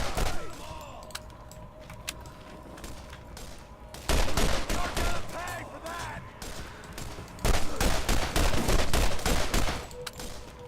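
Gunfire from the shooter game Borderlands, played in VR: dense bursts of rapid shots come in two loud stretches, with quieter ambient game sound and occasional single pops between them.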